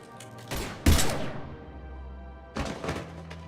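Gunfire in the video game Mass Effect 3: a heavy thudding shot burst with crackling tail, then a second volley a moment later, loud and close with no voices.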